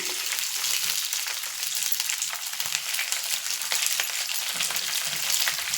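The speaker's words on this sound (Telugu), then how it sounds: "దినుసులన్నీ బాగా వేగినాయి కదా" Urad dal, cumin and dried red chilies frying in hot oil for a chutney give a dense, continuous crackling sizzle, close and steady for the whole stretch, with no talk.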